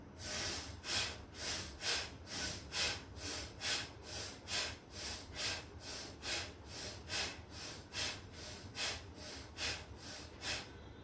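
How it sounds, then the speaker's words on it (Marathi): Bhastrika pranayama breathing, forceful deep breaths in and out in a steady, even rhythm of roughly a dozen cycles, close and fairly quiet, with no talking. "यामध्ये आपल्याला खांदे वर घेताना दीर्घ श्वास घ्यायचा आहे आणि खांदे खाली आणताना दीर्घ श्वास सोडायचा आहे"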